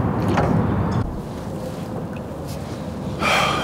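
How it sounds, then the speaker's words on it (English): Wind blows over open water around a small fishing boat with a cane pole aboard, a soft rushing noise that swells into louder gusts near the start and again at the end. "the wind is picking up"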